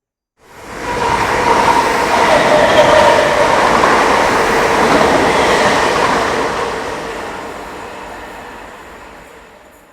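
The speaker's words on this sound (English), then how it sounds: "After that unexpected appearance from the Class 321 EMUs" Class 321 EMU train passing through Lancaster station, rising quickly from silence into a loud rumbling rush with rail clatter, then slowly fading as it moves away.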